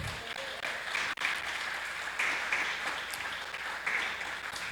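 A church congregation breaks into sustained applause, a thick, steady wash of many hands clapping in a reverberant hall, with brief swells and a momentary dip.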